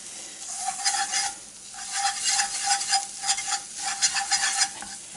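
Tomato paste is mashed and stirred into browned, crumbly venison in a cast iron pan, with a spoon scraping in rhythmic strokes over a continuous soft sizzle that swells and fades with each pass.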